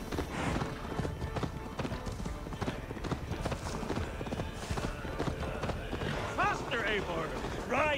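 Horse hooves pound at a gallop in Assassin's Creed Valhalla, a rapid clip-clop of a ridden horse on the move with a whinny near the end, under game music and voices talking.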